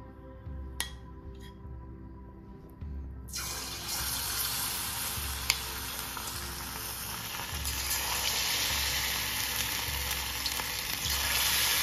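Marinated chicken pieces for chilli chicken frying in hot oil, a steady loud sizzle that swells from about three seconds on and crackles continuously, with faint kitchen clatter before it.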